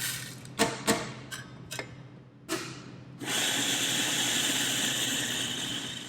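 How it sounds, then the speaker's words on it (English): Coffee beans being ground to a medium grind for an Aeropress start with a few sharp clicks and clatters, then a grinder motor kicks in with a steady, loud whirring grind that runs on without talk. "So I'm going to go ahead and grind my coffee."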